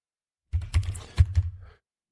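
Keystrokes on a computer keyboard while a search term goes into a web browser's search bar: a short burst of several clicky taps over about a second, close and moderately loud, with no other sound around them.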